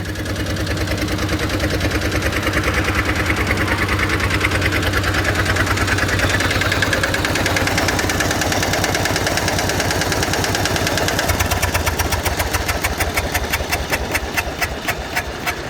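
A Thai E-taen farm vehicle's 11-horsepower engine idles steadily and loudly up close, a continuous knocking chug with hissy mechanical clatter that quickens slightly near the end.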